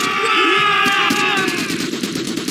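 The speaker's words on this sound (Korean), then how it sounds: "엇갈리는 총소리 속에서 함성이 터져올랐다." Rapid gunfire crackles in dense bursts under loud, sustained crowd shouting, a battle sound effect in a Korean audio drama with overlapping shots and voices throughout.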